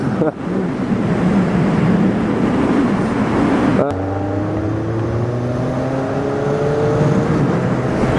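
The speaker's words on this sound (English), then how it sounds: "My bike sounds so silent now with this new exhaust" A steady motorcycle engine drones while riding, with wind rushing over the microphone and a smoother, rising engine note in the second half.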